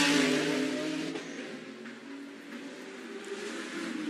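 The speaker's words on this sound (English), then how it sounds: "Hear the tyres squealing." GT race cars at the Macau Grand Prix GT Cup street circuit roar past at speed with engines droning, tyres faintly squealing through the corner, loud and sustained then fading slightly.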